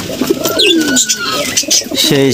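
Pigeons in a coop where a pair has just laid fresh eggs, cooing and rustling at close range with a voice briefly heard nearby.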